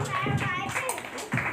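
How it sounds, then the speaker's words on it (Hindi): Bursts of hand clapping rise from a crowd at an evening bhajan and harinam kirtan gathering, uneven and choppy, with a voice speaking over them. "ताली बजानी सबसे आती है?"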